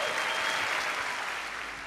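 An audience applauds with steady, dense clapping that slowly tapers off, without talk.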